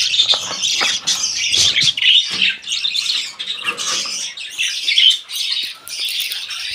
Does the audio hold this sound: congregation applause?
no